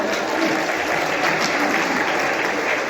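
Loud, dense applause from a concert crowd, a continuous roar of many hands clapping close and full without pause, with no distinct voices rising above it.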